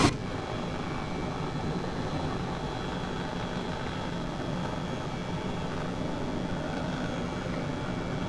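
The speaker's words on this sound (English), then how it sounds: "This is quite a good helicopter." Airbus H135 helicopter flying low in Flight Simulator 2020, a steady close rotor and turbine drone with rapid blade chop that holds throughout at even loudness.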